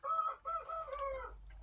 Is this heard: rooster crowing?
yes